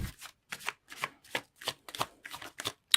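Tarot cards shuffle in quick, crisp bursts, about eight riffling strokes in a steady rhythm, close and clear with no voices.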